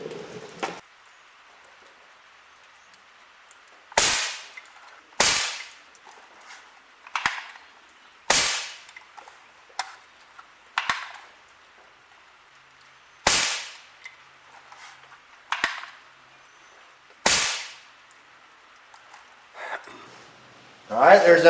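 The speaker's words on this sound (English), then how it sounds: "Alright, there's them 5 shots." An Umarex NXG APX air rifle fires 10.3 grain pellets at short range, producing a series of sharp, separate cracks spaced a second or more apart, each one loud and close against a quiet background.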